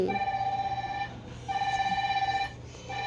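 An electronic phone alarm chimes in repeated bursts with short pauses between, steady and moderately loud over a low background hum.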